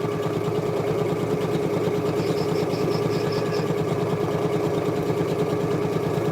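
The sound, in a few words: sewing machine sewing slowly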